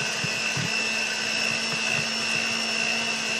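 Electric mixer whipping bean dip in a kitchen, a steady high motor whine that holds constant throughout, loud and close with faint bumps of the beaters against the bowl.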